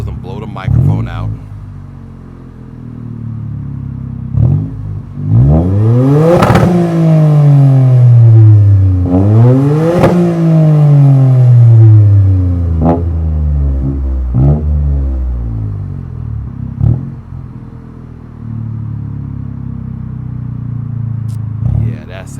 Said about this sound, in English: That's what it sounds like from the rev. We're doing a couple revs.